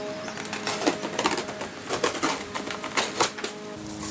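A blade cuts open the end of a cardboard box holding a Voltbike e-bike, making a run of close, uneven scraping and tearing rasps over about four seconds.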